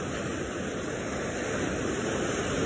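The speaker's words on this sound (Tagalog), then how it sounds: "lakas talaga ng alon no" Steady roaring rush of strong surf breaking on the shore nearby, continuous and broadband with some wind noise, no voices.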